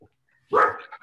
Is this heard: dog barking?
yes